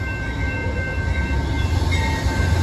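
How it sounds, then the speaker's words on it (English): An Amtrak passenger train rumbles past in Seattle on a cold, rainy day, a loud, steady, close roar of wheels and cars with a faint high tonal whine above it, no speech. "Now we walk past here and again a train is coming."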